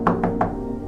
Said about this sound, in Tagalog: May mahinang pagkatok sa kanyang pinto.